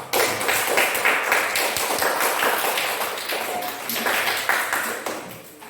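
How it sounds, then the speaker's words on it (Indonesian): Schoolchildren in a classroom burst into dense, energetic applause, many hands clapping at once close by, swelling and fading in waves over several seconds. "Tepuk tangan dulu untuk semua."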